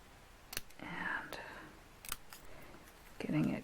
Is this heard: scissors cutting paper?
yes